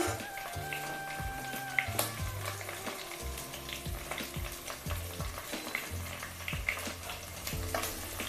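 Green chilies and ginger garlic paste frying in a pan, a steady close sizzle with clinks and scrapes of stirring throughout.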